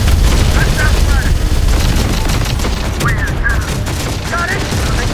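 Dense gunfire and explosions from the video game Terminator: Dark Fate - Defiance, a loud continuous barrage of rapid shots and booms, with radio-style squad voices and whistling tones cutting through the battle noise.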